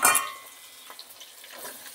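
Onions drop into hot oil with cardamom, cloves and cinnamon for prawn pulao, giving a brief loud sizzle that quickly settles into a faint, steady frying hiss.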